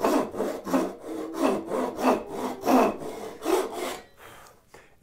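A hand saw cuts a wooden board for a half lap joint in about eight steady, rhythmic strokes, close and clear, then slows and stops near the end, with no talking.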